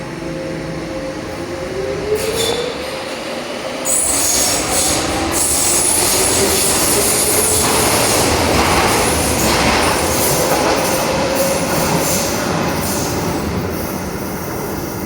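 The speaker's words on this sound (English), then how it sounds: "This DLR train is for Lewisham." A Docklands Light Railway train bound for Lewisham rolls close by with steady rumbling and clattering wheels, a rising squeal of wheels on the track and a high electric whine, no voices.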